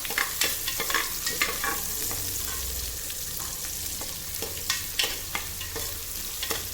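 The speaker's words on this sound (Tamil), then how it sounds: "அந்த வெங்காயத்தை போட்டுருவோம் இது நூறு வெங்காயம் சின்ன வெங்காயம்" Small shallots sizzle and fry in hot oil in a pan for a mutton intestine curry, with steady crackling and repeated scrapes of a stirring spoon, close and continuous with no talk.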